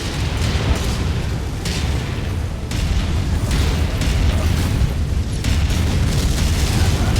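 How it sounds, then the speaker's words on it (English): Missile explosion in the MechWarrior 5 video game, a dense, loud, sustained rumbling blast with repeated booming bursts throughout, no talking over it. "Incoming missile."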